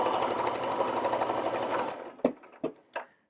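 A sewing machine stitches down the quarter-inch turned hem of a fabric mask, running steadily and close for about two seconds before stopping, followed by a few short separate bursts of stitching.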